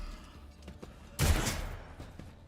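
A single loud burst of gunfire from a Warhammer 40k Rogue Trader battle. It erupts sharply and then decays over about a second above a low rumble.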